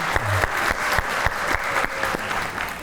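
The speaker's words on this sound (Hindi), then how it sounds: "तो भाई उनके लिए एक बार तालियां हो जाएं" Studio audience at a Pakistani music talk show applauding a folk singer, a dense steady burst of clapping with a few sharper claps standing out, close and fairly loud throughout.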